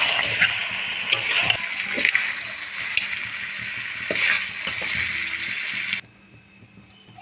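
Fried potatoes are sautéed in a pan of chicken, with a dense close sizzle and irregular scraping stirs that stop abruptly, leaving a quiet room tone.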